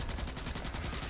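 Rapid sustained gunfire from Starship Troopers Extermination, a dense machine-gun-like stream of shots aimed at a giant blue bug, steady and continuous with no voices.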